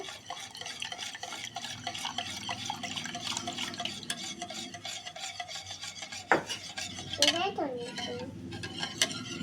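Steady scraping and swishing of a whisk stirring milk and eggs together in a bowl for pudding, a continuous close rhythmic rasp with light liquid sloshing and a sharp clink partway through.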